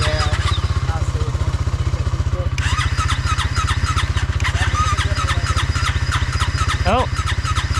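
An outboard boat engine cranks over and over, trying to catch and build compression, a steady rapid chugging rhythm up close with a brief sharper burst near the end and voices in the background.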